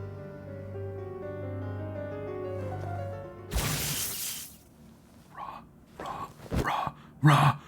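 In AI: The Somnium Files, after a stretch of music, a dog barks several times in loud, close bursts, following a sharp crash.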